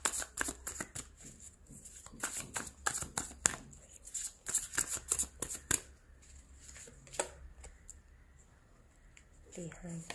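Tarot cards are shuffled and picked in a series of quick, crisp riffling and flicking bursts, close and fairly quiet, pausing briefly before a few last soft card slides.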